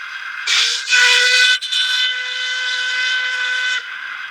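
A model train sound decoder plays a long steam-style locomotive whistle, one loud sustained harmonic blast lasting over three seconds with a brief dip near the start, alone and without voices.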